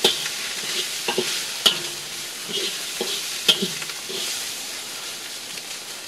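Chicken fried rice with soy sauce sizzles steadily in a pan while it is stirred and turned, with scattered scrapes and clicks of the utensil against the pan throughout.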